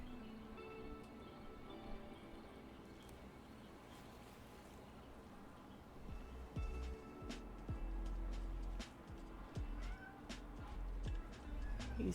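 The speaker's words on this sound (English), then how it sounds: "He's at her door meowing." Cat meowing at a door indoors, faint repeated meows over a quiet room, with some clicks and taps near the end.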